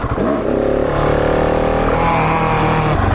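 A KTM 701 Supermoto engine revs hard and close at a stunt lot during wheelie practice, a loud sustained roar that climbs in pitch, holds, then drops near the end.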